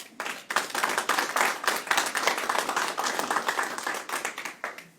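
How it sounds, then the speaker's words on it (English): A lecture audience applauds two people at a history talk, with a brisk, dense round of clapping that holds at a steady level for about five seconds and then starts to taper. "please give them a round of applause"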